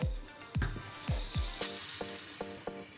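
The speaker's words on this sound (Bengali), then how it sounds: "তেল খুব ভালো করে গরম হয়ে গেছে, এবার অল্প লবণ ছিটিয়ে দেব।" Salt sprinkled into very hot mustard oil in a wok: a few sharp crackling bursts that spit and fade over a background hiss, close and fairly quiet, no voices.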